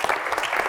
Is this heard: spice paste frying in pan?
no